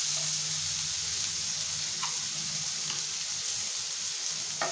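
Finely chopped garlic sizzles in hot oil in a pan for a Gobi Manchurian starter, a steady bright crackling hiss with a few sharper pops and a low background hum, no talking.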